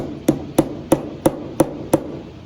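A mallet taps fret marker dots into a ukulele fretboard, giving six sharp, evenly spaced knocks about a third of a second apart, close and distinct with no talk.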